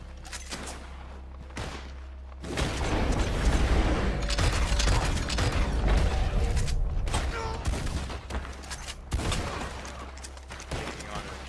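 Rapid gunfire in the Red Dead Online video game during a prison attack, dense volleys of loud shots erupting after a quiet start and continuing in bursts, with brief pauses between salvos.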